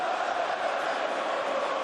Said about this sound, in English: just listen to that crowd already chanting AJ's name